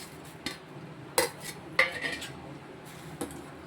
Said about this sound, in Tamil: அகர் அகரை போட்டு இது கரையிற அளவுக்கு நல்லா கிண்டிக்கிட்டு இருக்கணும்